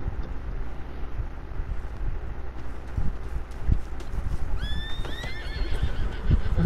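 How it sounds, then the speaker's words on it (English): A horse in the Red Dead Online game gives a loud whinny over outdoor wind and hoof noise, the neigh rising then falling in a few quick bursts near the end. "Come here, horsey."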